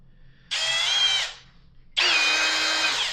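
A Milwaukee cordless drill spins at its lowest torque setting in two short bursts, each about a second long with a steady high whine, loud and close, separated by a brief pause.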